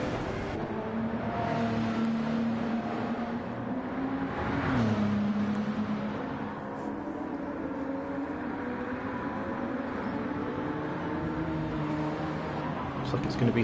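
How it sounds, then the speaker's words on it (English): Race cars heading out onto the Monza circuit, a steady engine drone rising and falling at a distance beneath continuous commentary. "cars making their way out on the circuit."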